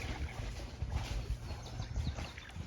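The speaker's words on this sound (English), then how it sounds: "a trail rider on a horse" Horse hooves of a trail rider clip-clopping along a riverside trail near the Jacks Fork River, an irregular series of soft thuds heard from a floating boat, moderately distant under outdoor ambience.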